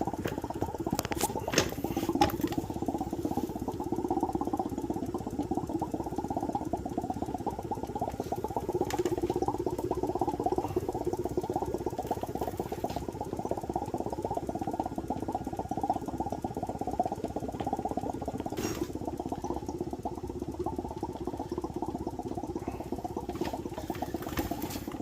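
A vacuum pump drones continuously while pulling a vacuum on a tire to break the bead, a low, even rattling hum with faint clicks, close and unchanging.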